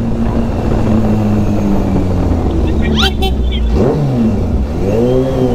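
A Kawasaki H2 SX SE motorcycle engine rumbles loudly up close under riding wind, then revs up in rising sweeps near the end.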